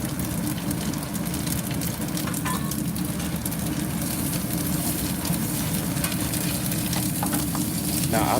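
Eggs and hash browns fry in a pan with a dense, constant sizzle and crackle, close and steady throughout with occasional light scrapes.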